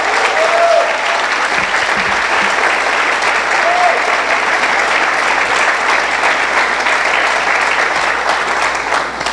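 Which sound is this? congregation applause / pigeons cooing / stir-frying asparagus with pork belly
congregation applause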